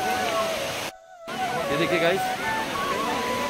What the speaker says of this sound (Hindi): पानी गिर रहा है ऊपर से पहाड़ से गोवर्धन पर्वत से